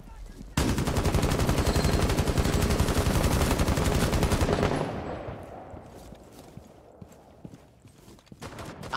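Rapid automatic gunfire in the Rainbow Six Siege video game on Xbox One, a loud dense burst lasting about four seconds before fading into quieter scattered game sounds and faint clatter.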